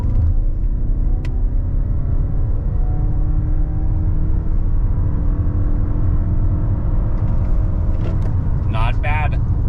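A 2025 Toyota RAV4 accelerates hard from a standstill to 60 mph in sport mode, heard from inside the cabin as a loud, steady engine and road roar that rises in pitch, with faint beeps near the end.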